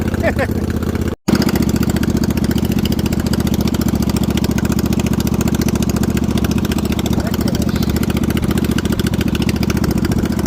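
A snow mower's small engine runs steadily at a close, loud idle with a dense, even mechanical hum, broken briefly by one sharp cut near the start, while a voice talks over it.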